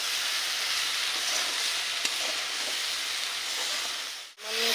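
Spices and salt being stir-fried for a jackfruit biryani, a steady dense sizzle with frying hiss throughout, close and continuous, a brief clink near the middle and a sudden drop to quiet near the end.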